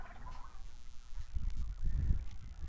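Farm turkeys gobble and call low and close at an outdoor grass pasture, a muffled cluster of fowl sounds without any talk.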